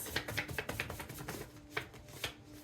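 Tarot cards shuffling in quick riffling bursts, several soft snaps and flutters up close, then a few isolated slaps of cards settling, quiet and alone with no talk.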